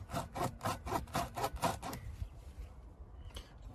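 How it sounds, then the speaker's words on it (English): Rhythmic rasping strokes as a tire puncture wound is polished to prepare it for a repair plug, about eight steady back-and-forth scrapes close up, then a pause and one brief final rub. "we'll polish it 3 times, allow the wound to come into full contact with sulfurized glue."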